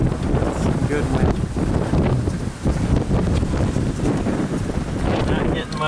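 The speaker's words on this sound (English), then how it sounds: "Some good wind." Strong, variable wind roars across the microphone near a large sharp vertical-axis wind turbine, a dense unbroken rush with small surges and a brief dip midway.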